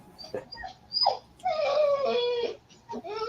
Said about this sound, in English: Is that your dog, Bob